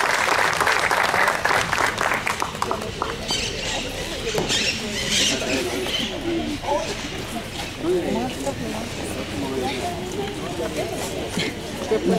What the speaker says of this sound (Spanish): les pido un nuevo aplauso en honor a Montes